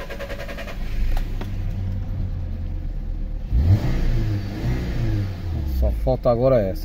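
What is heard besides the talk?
2018 VW Polo TSI engine starting and running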